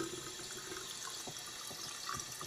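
A tap runs in the video game Yesterday, giving a steady, moderately loud rush of cold water pouring into a sink that continues without a break.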